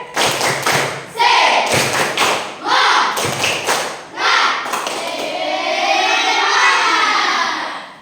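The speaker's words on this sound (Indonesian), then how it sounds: "1, 2, 3. Tepuk semangat." A group of children claps the tepuk semangat cheer in unison, loud close rhythmic bursts of claps and thumps in a patterned beat, ending in a sustained cheering shout, with an adult voice leading.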